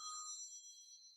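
A phone ringtone chimes faintly in a quiet yoga room, holding a steady electronic tone that continues for just over a second.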